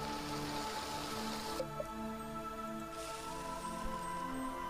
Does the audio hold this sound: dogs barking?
no